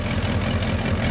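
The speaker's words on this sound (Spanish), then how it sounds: "Por ahí se le escucha una fuga en el empaque del escape." A 1979 Ford Lariat truck engine idles steadily and close, with a low rumbling throb and a faint rhythmic ticking puff from an exhaust gasket leak at the flange.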